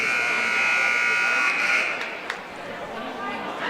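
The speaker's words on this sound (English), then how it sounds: "the buzzer went off saying the timeout's over" A timeout buzzer at a high school boys basketball game, Conant versus Fremd, sounds as one long steady electronic tone for about two seconds, then gym chatter and crowd murmur carry on.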